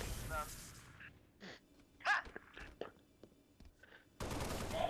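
Gunfire in Halo: Reach during the ONI: Sword Base mission: bursts of broadband shots at the start and end with scattered quieter hits in between, fairly faint overall.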